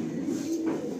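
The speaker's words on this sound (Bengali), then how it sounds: "তো এটা নর পায়রা।" A male Madrasi pigeon in a pigeon loft gives a low, steady cooing that runs unbroken through the whole second, close and fairly loud, with no voices over it.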